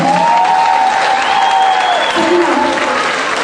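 Audience applauding after a children's dance show, a loud, dense wash of continuous clapping with a voice speaking over it and a brief tone sliding through.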